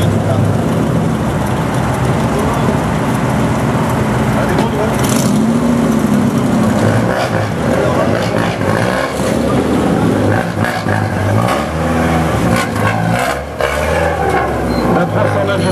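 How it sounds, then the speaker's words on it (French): A 1990s Peugeot 309 GTI 16S rally car at a historic rally in the Dauphiné, its engine roaring loud and continuous as it drives, with a voice talking over the noise. "Un autre style de voiture qui est la 309 GTI 16S de Philippe Bourcy et Didier Duclos"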